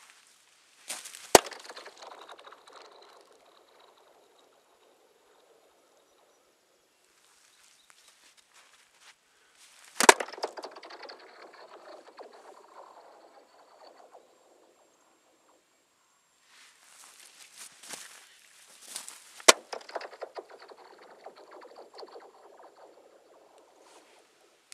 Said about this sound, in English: one of the times the stick didn't go through and instead like skated along and made a really cool